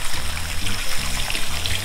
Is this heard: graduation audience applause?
no